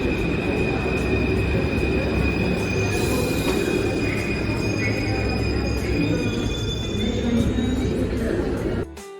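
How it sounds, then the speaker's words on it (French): Paris metro train pulling into a station platform, wheels squealing and screeching along the rails with a rumbling roar that builds steadily before stopping abruptly, with faint crowd voices underneath. "Et là, du coup, leur métro arrive."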